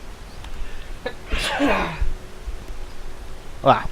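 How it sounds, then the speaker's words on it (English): A single close, loud sneeze with a sharp burst of breath, followed shortly by a brief vocal sound in a quiet room. "I had to sneeze"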